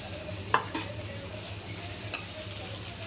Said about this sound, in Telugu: ఉల్లిపాయలు వేగేదాకా వేయించుకోవాలి.